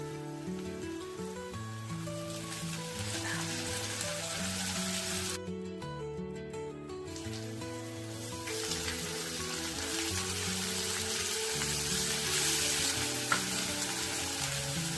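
Potatoes dropped into hot oil for Bengali crab curry crackle into a loud, continuous sizzle with stirring scrapes. The frying drops out briefly midway, then comes back strong. Nearby and steady, with no one speaking.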